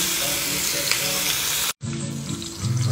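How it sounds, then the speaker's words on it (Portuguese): Rice with sausage frying in a pan, a loud continuous sizzle with a momentary break, close and steady. "Então vamos colocar os ingredientes aqui para ir fritando"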